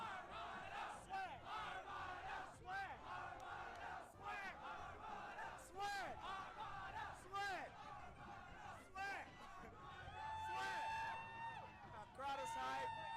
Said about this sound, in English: Crowd is hype.